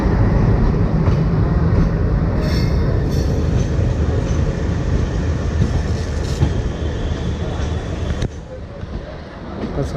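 A train pulling into Coimbatore railway station, loud continuous rumble of wheels and carriages with some squealing, rolling steadily throughout.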